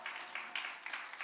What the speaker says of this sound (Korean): 우리 박수로 환영해 주세요.